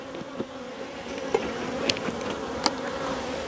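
Honeybee colony droning steadily while hive frames are shifted during colony expansion, a dense continuous buzz with a few sharp clicks and knocks from handling the frames.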